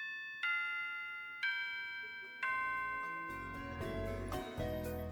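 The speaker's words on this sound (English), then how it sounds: "that's the bell for next class" A chiming school bell from the video game Wonderful Everyday rings out in four successive bright, ringing strikes, each sustaining and overlapping, with a low rumbling bed building beneath the later notes; no one speaks.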